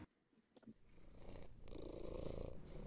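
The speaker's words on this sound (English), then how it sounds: "Is that a cat?" A cat purrs in a Garry's Mod horror map, a low, faint rumbling purr that starts after a few small clicks and grows into a steady, continuous drone.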